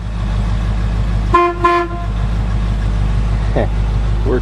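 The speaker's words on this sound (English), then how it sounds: "Want to hear an old horn?" Two short honks from the horn of a 1972 Ford pickup truck, close and loud over the engine's idle, followed by a brief voice.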